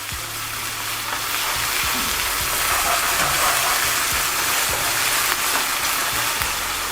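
Tomatoes for chicken karahi cook in oil in a pan, giving a loud, steady sizzle broken by repeated scraping and knocking as a spoon stirs and mashes them.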